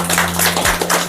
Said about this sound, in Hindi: एक बार जोरदार तालियां भाई बनता है